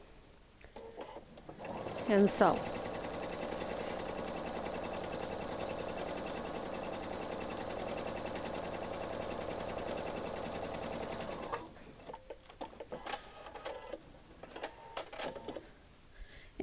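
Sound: sewing machine stitching fabric

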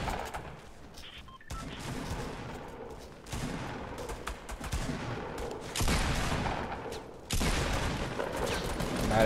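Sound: shotgun fire in the video game Fortnite

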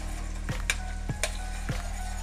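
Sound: stirring onions and fresh garlic cloves sautéing in pan

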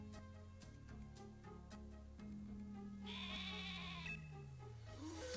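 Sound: sheep bleating in Pokémon Shield video game

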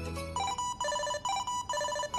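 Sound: Jingle Bells ringtone playing on a Tile tracker

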